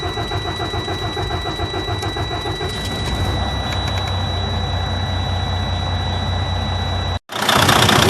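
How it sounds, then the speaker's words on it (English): A Freightliner Cascadia truck's DD13/DD15 diesel engine runs loudly and steadily nearby, a dense low rumble with a sustained high whine on top, ending with a brief cutout before an even louder burst. "I'm gonna start the engine and I'm gonna inspect for leaks."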